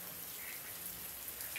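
Steady rain falls outside, a faint, even hiss of drops with no other clear sounds.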